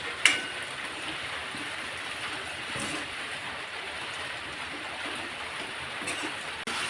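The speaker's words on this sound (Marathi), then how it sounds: "मी आधीच हे पाणी गरम करून ठेवलेलं होतं, त्यातलं मिरच्या शिजतील इतपत पाणी मी त्यामध्ये घालते आहे." Previously heated water is poured into a pan of stuffed capsicums that have been frying in oil, giving a steady, continuous rushing pour that holds at a moderate level for several seconds.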